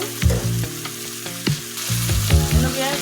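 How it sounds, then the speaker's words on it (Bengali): Beef sears in oil in a pan, a dense, loud sizzle and crackle with repeated stirring and scraping strokes, close and continuous, and no one speaking. "যতটা কষানো হলো আছে এটা শুধু আমি তেলে কষিয়ে নিব"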